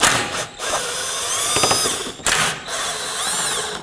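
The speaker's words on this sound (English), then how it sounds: "I'm just going to use a power tool." A power tool whirs in several bursts while driving out bolts on a 2018-2024 Toyota Camry 2.5L during CV axle replacement, starting and stopping with rising and falling pitch, with a brief ratcheting rattle in the middle; close and loud.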